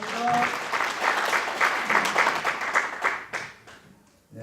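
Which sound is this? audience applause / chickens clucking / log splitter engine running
audience applause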